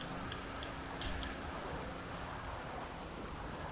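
Steady rain patter in GTA 5 with faint ticking drops, soft and even, continuous throughout with no talking.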